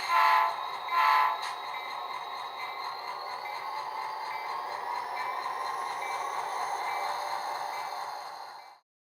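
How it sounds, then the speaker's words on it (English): A model train's horn blares twice as it pulls away from the station, followed by a steady, even horn tone that sustains for several seconds before cutting off sharply. "Sound the horn because it's time to leave the station."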